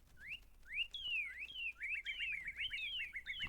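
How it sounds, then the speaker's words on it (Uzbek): Songbirds chirping in the video game Minecraft, a steady run of bright, rising whistled chirps and quick repeated tweets close by, with no voices over them. "Sayroq qushlar, bulbulchalar."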